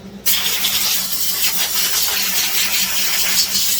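Brake cleaner sprays onto Husqvarna 562 XP chainsaw parts as they are rinsed off, producing a sudden loud, continuous aerosol hiss held close for several seconds, with no talking.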